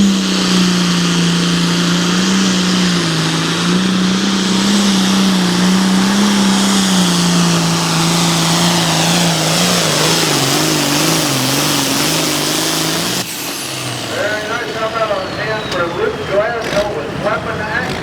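A high-horsepower tractor roars loudly at a tractor pull, its engine note holding steady then sinking as it labours, before cutting off abruptly; an announcer talks over it through the final stretch.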